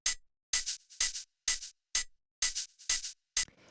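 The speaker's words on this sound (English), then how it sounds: "So the next thing we have here are these hi-hats," Crisp open hi-hat and shaker hits for minimal house repeat in a regular pattern, eight short bright bursts separated by silence, played alone.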